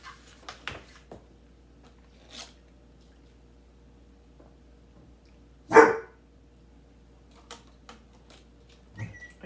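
Dog gives a single loud, close bark in a home kitchen, preceded and followed by faint scattered clicks and small household noises.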